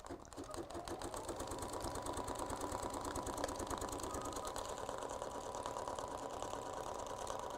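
An embroidery sewing machine stitches a corner line straight into stabilizer, giving a steady fast mechanical chatter that runs evenly throughout at moderate level with no voices.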